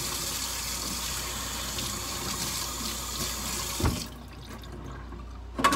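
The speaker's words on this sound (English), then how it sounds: "Clean up my sink here." Water streams from a kitchen sink tap during cleaning, a steady close hiss of running water that stops abruptly near the end, followed by a few faint knocks and clatters.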